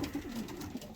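Pigeons coo softly inside a loft, a low rolling call repeated several times against a steady hiss of background noise.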